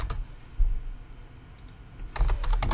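Typing on a computer keyboard, several quick bursts of close, crisp key clicks with short pauses between, alone without talk.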